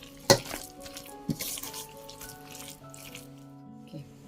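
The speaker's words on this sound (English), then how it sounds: "And we can heat up the oil and start frying it." Vegetable fritter batter hitting hot oil in a home kitchen, a sharp splash followed by steady close sizzling and bubbling with a few clatters, no talk.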